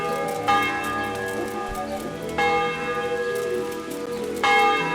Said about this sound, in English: He's probably ringing those bells.